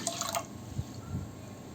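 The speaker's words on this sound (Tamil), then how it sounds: "அளந்து வச்ச தண்ணியை இது கூட சேர்த்துக்கலாம்." Measured water is poured onto soaked rice and moong dal for pongal, giving a brief, soft splash and trickle with a few faint drips, quiet and close by.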